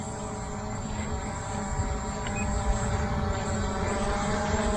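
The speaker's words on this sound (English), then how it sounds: "Let's turn around and walk towards the drone now." A Ruko F11 GIM2 4K GPS drone flying gives a steady, droning propeller whine with fairly even loudness and a faint rise partway through, heard alone without talk.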